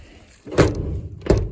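A 1979 Ford F100 truck door slams shut with a solid thud, followed moments later by a second heavy door thump close by.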